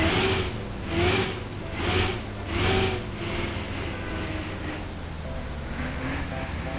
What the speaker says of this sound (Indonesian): Kita coba starter dulu ya. Kita dengerin soundnya we.